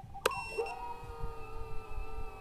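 An LED buzzer on a Reptile Cloud 149HD V2 cinewhoop drone beeps during arming: a sharp blip, then a short electronic tone that holds as a faint steady whine over low background rumble. No talking.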